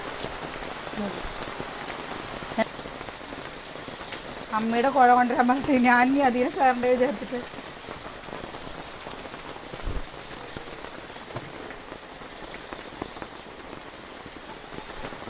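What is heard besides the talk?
rain falling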